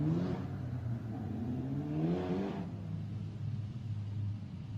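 Formula Renault Eurocup race cars at Paul Ricard come past at a distance, engines rising in pitch as they accelerate, one car fading before another climbs through the gears, over a steady low rumble.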